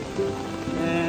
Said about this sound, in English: it is finally started raining